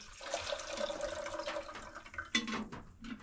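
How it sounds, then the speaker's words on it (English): Water splashes and trickles into the metal bottom pot of a double boiler, a short pour with a brief louder gush near the end, faint and close. "I'll put the rest of it in the bottom of this double boiler"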